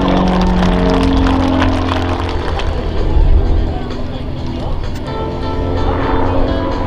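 A Pitts aerobatic biplane performs at a military air show, its loud propeller engine droning and shifting in pitch as it backs up during a torque roll, under an announcer's voice over loudspeakers.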